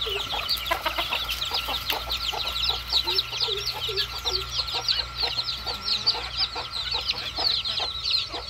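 A crowd of poultry farm chickens clucks continuously as they come out, a dense, busy chorus of overlapping clucks and calls close by.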